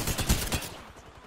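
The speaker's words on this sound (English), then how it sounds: "Oh, they're getting shot at." Rapid gunfire bursts from a firefight in Apex Legends on the pre-season Kings Canyon map, several quick shots in the first half-second fading into a softer crackle of distant fire.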